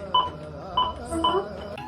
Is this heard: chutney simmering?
no